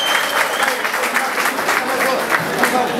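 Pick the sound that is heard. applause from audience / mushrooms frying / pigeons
applause from audience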